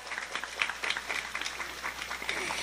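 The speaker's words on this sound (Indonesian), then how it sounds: "saya minta tepuk tangan dulu kangge rencang-rencang panitia" Audience at a village mosque gathering in Dusun Cakung Sari clapping for the organizing committee: steady, dense applause from many hands, moderately loud and continuous throughout.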